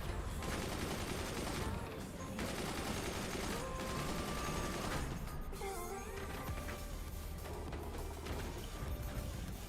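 Heavy howitzer barrages in the Forts real-time strategy game, a dense continuous roar of rapid artillery blasts and crashing impacts filling the whole stretch, loud and unbroken.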